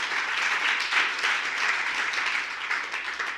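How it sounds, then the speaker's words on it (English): A dense round of applause from a crowd of staff at a company all-hands meeting, a steady wash of many hands clapping close and loud throughout, with no talk over it. "big round of applause for getting to where we are here"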